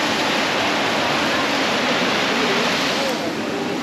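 A loud, steady roar of falling water fills everything, a constant close rushing wash with no breaks.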